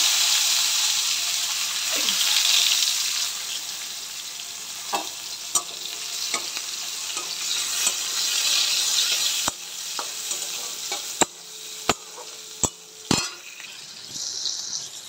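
Whole cumin seeds sizzle steadily in hot oil in a pan, a continuous close crackle with a few sharp clinks of a utensil against the metal toward the end, and no talking.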